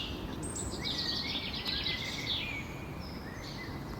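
Faint birds sing and chirp in the distance by a pond, short overlapping phrases above a steady outdoor background hiss.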